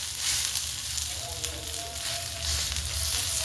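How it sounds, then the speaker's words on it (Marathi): Masala and roasted onion frying in hot oil for a homemade kala masala bitter gourd dish, a steady close sizzle with a low hum underneath, continuous and fairly even throughout. "छान आपण मसाला फ्राय करून घेणार आहे"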